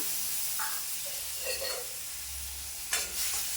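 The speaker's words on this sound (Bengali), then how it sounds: "মশলা কষা হয়ে গেছে।" Ground spice paste for a fish curry sautés in a pan, a soft sizzle under a few brief stirring scrapes and one sharper clatter near the end.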